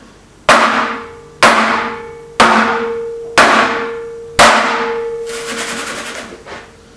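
Five sharp metallic bangs of a baking tray of piped macarons struck against a counter, evenly spaced about a second apart, each ringing briefly before the next.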